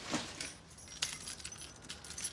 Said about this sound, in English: Okay, keys. What? Car keys